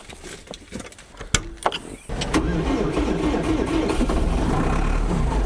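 A tractor engine starts after a few clunks and clicks, then settles into a steady, close idle as it warms up on an off-grid cabin build site.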